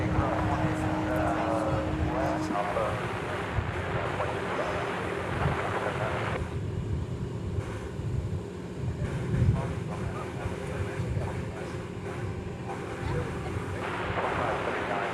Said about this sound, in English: The 7878, American Flight 128, arriving after a 12 and a half hour flight from Shanghai.